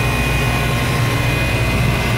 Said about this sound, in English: This is the compressor for freezer.